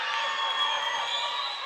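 Saints fans cheering in full voice at an indoor college volleyball tournament, a brief steady wash of crowd noise with no clear talk on top.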